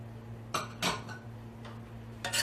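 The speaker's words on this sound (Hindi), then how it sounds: "ये लहसुन अदरक का पेस्ट डालेंगे, मिक्स करेंगे।" A spoon stirs garlic-ginger paste and salt into mutton karahi in a metal wok, giving a few scattered scraping clinks against the pan over a steady low hum, with no talking.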